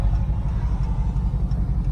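A 2019 Dodge Charger R/T with X-pipe and mid-pipe delete exhaust rumbles steadily from inside the cabin, a deep, loud, continuous low drone without speech.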